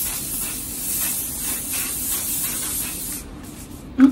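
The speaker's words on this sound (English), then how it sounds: "I'm going in with some MAC shine spray just to like kind of give it that really glossy," MAC shine spray misted onto styled hair, a steady close hiss lasting about three seconds, then stopping, followed by a faint tap.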